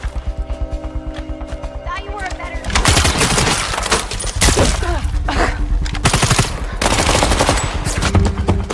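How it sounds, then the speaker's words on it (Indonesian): Rapid gunfire bursts crackle loudly in a film action scene, following a rhythmic engine-like throb and mixed with other crashes and noise; a narrator speaks over the action. "Emma berhasil menabrak Carper dan melepaskan satu tembakan tepat di area vital tubuh Carper"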